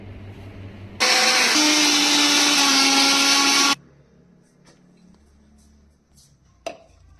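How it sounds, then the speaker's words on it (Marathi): A kitchen mixer grinder whirs loudly at full speed for about three seconds, grinding garlic cloves, green chillies, coriander and kokum, then cuts off abruptly, leaving quiet room sound and a small clatter. "हे सर्व साहित्य आपण मिक्सरमध्ये बारीक करून घेऊ"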